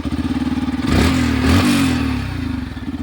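A 149 cc Yamaha FZ-V3 motorcycle engine idles with a fast, even putter, revs up briefly to a louder roar, then drops back to the steady idle, all close to the listener.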